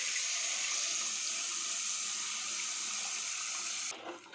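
Tamarind water is poured into a simmering dried-fish curry (karuvaattu kuzhambu), a continuous loud gushing splash that runs steadily for about four seconds before stopping abruptly, heard close with no voices.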